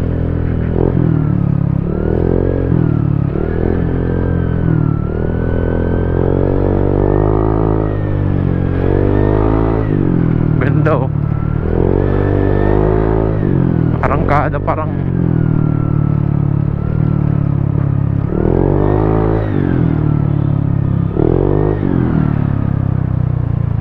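A motorcycle fitted with a JVT Power Pipe V3 exhaust and an engine remap idles close by, its loud engine repeatedly revving up and dropping back with a throaty, rising and falling drone over about twenty seconds.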